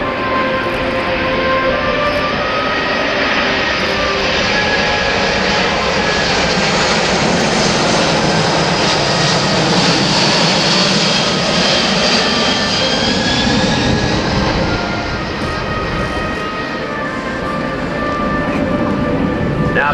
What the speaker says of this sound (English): maneuvering the aircraft to demonstrate a full flap approach to a simulated short field runway